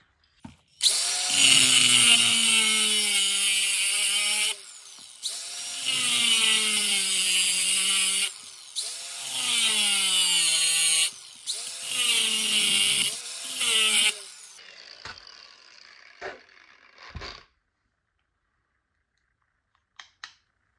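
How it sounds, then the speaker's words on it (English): A power grinder cuts loudly and steadily into the metal tube of a rifle scope in several long bursts, each with a shifting, whining pitch. Brief pauses separate the bursts, then the tool spins down, leaving a few faint clicks and silence. "let's go ahead and grind off right here and see what it looks like"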